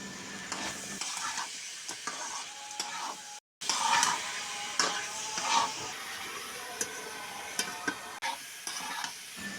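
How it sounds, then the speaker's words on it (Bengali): Cut potatoes and chicken pieces fry in spice masala, a close steady sizzle broken by repeated stirring and scraping sounds and one brief silent gap. "মশলাটা ভালো করে ভাজা হয়ে গেলে তারপর কেটে রাখা আলু এবং মুরগির মাংস দিয়ে দিতে হবে"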